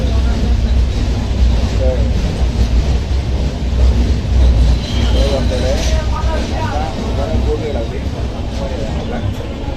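Rumbling ride aboard a Diva local commuter train, a steady low roar with rattling runs continuously from start to end, with people chatting and children's voices over it.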